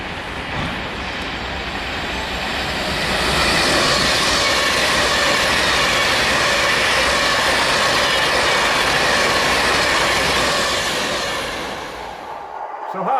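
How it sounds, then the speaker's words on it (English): Visiting model railway locomotives from Derby run on a layout, giving a loud, continuous rumble and rattle of wheels and motors that swells, holds steady, then fades near the end. "We've got quite a few visiting locos, all the way from Derby"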